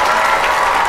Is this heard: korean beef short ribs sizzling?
no